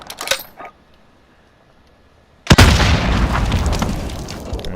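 In Modern Warfare, a couple of quick sharp clicks are followed by quiet, then a sudden heavy boom as a spawn tube launches, trailing into a sustained loud rushing roar.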